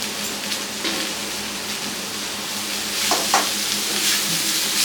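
Leafy greens fry in a pan, giving a continuous close hiss and sizzle with occasional stirring scrapes and a brief clatter toward the end. No voices are heard.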